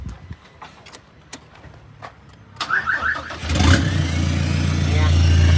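After a few clicks and faint voices, a Toyota Revo 2.4 pickup with a stock turbo, aftermarket exhaust and remap cranks and fires, then settles into a loud, deep, rumbling idle close by.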